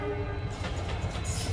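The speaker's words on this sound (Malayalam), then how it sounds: "ഇവിടെ സ്റ്റേഷനിലേക്ക് ഒരു ട്രെയിൻ കടന്നു വരികയാണ്" The Manmad–Hazur Sahib Nanded Express, hauled by a WDP 4D diesel locomotive, pulls into a station with a loud, sustained horn blast over a heavy rolling rumble of wheels and engine.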